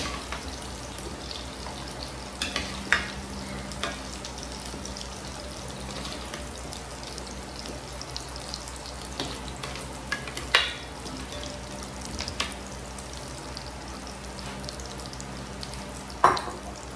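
Beef stew with shiitake mushrooms returned to a hot pan, a steady low sizzle running throughout with occasional sharper scrapes and clinks of stirring.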